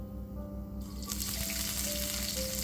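Chopped onion dropped into hot oil in a wok, bursting into a loud, steady sizzle that swells within the first second and holds close and continuous.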